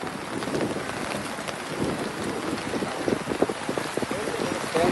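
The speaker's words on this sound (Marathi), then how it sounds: "आसपासच्या परिसरात पावसाने जोरदार हजेरी लावली आहे।" Heavy rain falls at an outdoor political rally venue with soaked chairs and a tent, a dense continuous hiss with gusty wind buffeting the microphone and faint voices mixed in.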